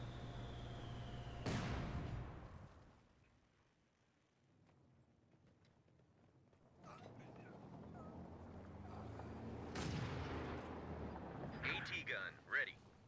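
Anti-tank gun shots in the Company of Heroes 2 war game ring out as two sharp, loud blasts a few seconds apart, with rumbling battle noise and a commentator talking throughout.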